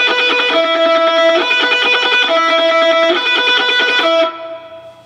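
Shred-style electric guitar lick, alternate-picked in steady sixteenth notes with the note changing every two beats, loud and distorted with an even, driving rhythm, then cutting off and ringing out at the end.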